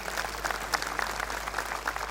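An audience at a satsang gathering applauds to welcome the presiding guests, even, steady clapping from a crowd at moderate distance over a low background hum, with no talking.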